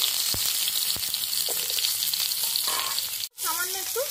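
Hog plums go into hot mustard oil with panch phoron and green chillies, a dense crackling sizzle with a few sharp pops and knocks, a brief dropout, then bubbly sputtering resumes.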